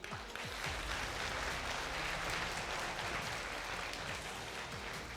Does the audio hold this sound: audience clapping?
yes